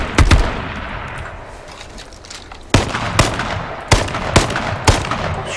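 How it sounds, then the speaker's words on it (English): Gunfire in the H1Z1 battle royale video game: several sharp, loud shots at irregular intervals, one early and a cluster of four in the second half, with quiet outdoor ambience between them. "Shooting at him."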